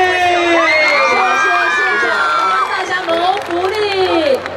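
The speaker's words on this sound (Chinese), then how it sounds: "掌声鼓励" A live audience at a public event cheers and shouts continuously, with many children's voices among them. The loud crowd noise holds steady, then eases slightly toward the end.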